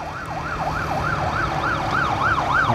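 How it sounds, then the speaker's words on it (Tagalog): An ambulance siren wails in a steady rising-and-falling cycle about three times a second, fairly loud over low traffic rumble on a street during a community quarantine. "Ambulansya."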